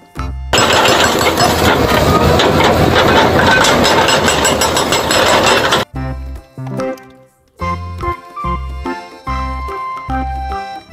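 Loud, continuous rattling and pounding from a rock-breaking excavator's hydraulic hammer and engine runs for about six seconds before cheerful background music takes over.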